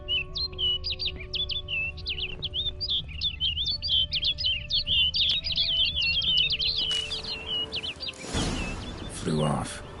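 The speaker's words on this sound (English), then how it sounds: "Looks like the bird's leading me somewhere." Bird calls in a dark-fantasy video game set in the Witcher world, a rapid series of bright chirps and warbles over a low ambient hum, ending in a louder rushing burst.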